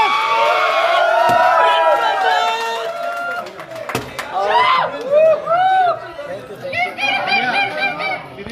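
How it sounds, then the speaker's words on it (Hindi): Crowd at a Bhojpuri singer's birthday celebration, loud and close, with cheering, whoops and excited voices, bursts of noise rising and falling, a few sharp claps or slams standing out. "ताली बजाओ सब लोग"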